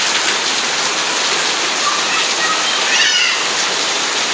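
Heavy rain pouring down in a steady, dense hiss, loud and continuous throughout, with a faint higher sound briefly rising near the end.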